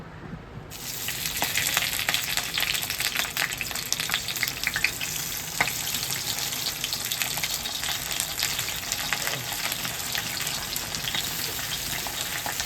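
Fish drops into a small amount of hot oil for a taro-leaf (kochu pata) nutanu dish. After a brief quiet start, a loud, steady crackling sizzle fills the rest of the clip, with no talking.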